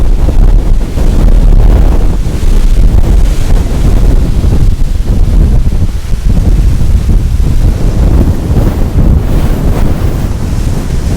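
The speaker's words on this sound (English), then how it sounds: "We're looking at like 20-mile-an-hour winds over here." Strong wind of about 20 mph buffets the microphone outdoors beside a building, a loud, steady, rumbling roar that runs unbroken from start to finish with no other sounds standing out.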